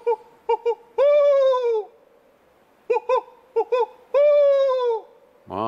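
A person imitates owl hoots, giving short clipped calls followed by a long wavering hoo, repeated twice, close and clear with no other sound.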